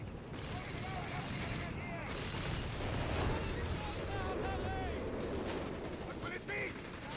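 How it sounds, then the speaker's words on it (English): Artillery fire in the Company of Heroes video game, made up of repeated booming blasts and crackling gunfire layered over a rumbling battle din, with whistling shell sounds and a voice talking over the action. "Cycle narrowly dodging artillery rounds."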